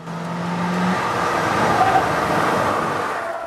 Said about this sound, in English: The sound of engine comes at high revs only.